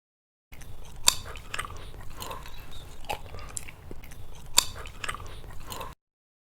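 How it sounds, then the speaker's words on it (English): Close-up human chewing with crisp, crunchy bites and wet mouth sounds in a steady rhythm, a few sharper crunches standing out, and no speech. "chew."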